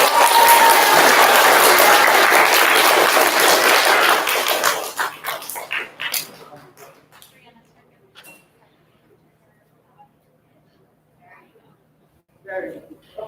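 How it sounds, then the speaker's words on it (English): An audience gives fourth grade students a strong round of clapping that holds for about four seconds, then thins into scattered claps and fades to near quiet, with a brief voice at the close. "can we give them a big round of applause?"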